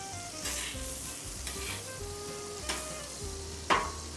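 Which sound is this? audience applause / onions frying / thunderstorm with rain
onions frying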